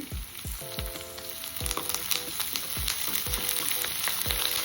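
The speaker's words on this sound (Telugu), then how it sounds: "ఒక 1/2 స్పూను అల్లం వెల్లుల్లి పేస్ట్ వేసి వేయించేసుకోవాలి." Ginger garlic paste sizzles steadily in hot oil while cooking tomato pulao, with a constant bright frying hiss and several soft utensil scrapes and clinks from stirring close by.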